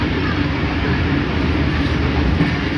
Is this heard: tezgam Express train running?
yes